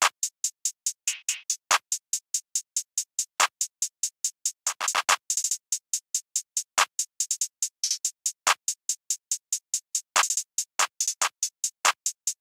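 Drum machine claps in a basic trap pattern with slight timing and velocity variation, sharp bright hits sounding over a fast steady ticking hi-hat loop, with no voices.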